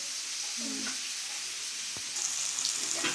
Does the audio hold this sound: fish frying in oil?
yes